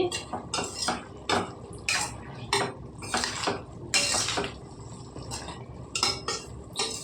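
A spoon scrapes and clinks against a pan as a cauliflower and broad bean curry is stirred with chili powder, giving repeated close metallic knocks and scrapes in an irregular rhythm.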